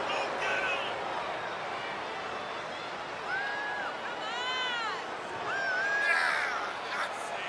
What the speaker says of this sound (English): it sounds to me like the crowd is more than ready for this one